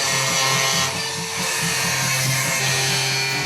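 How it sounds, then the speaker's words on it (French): A power saw whines continuously at high pitch as it cuts through a metal truck bed, loud and close, dipping briefly partway through. "Le plus rapide, c'est de dégainer la scie et de virer tout ça."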